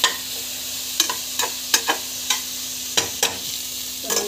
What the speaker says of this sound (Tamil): ஸோ பச்சை மிளகாய் வந்து ஆட் பண்ணிக்கணும். நல்லா வந்து இது வந்து வதக்கிட்டுருவோம்.